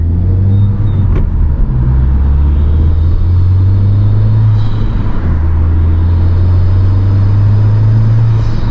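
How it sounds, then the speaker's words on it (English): A 2021 Type R engine hums steadily up close with a PRL intake, a faint airy whistle and sucking intake sound riding over the constant rumble. "You can hear that sucking in the air, the whistle."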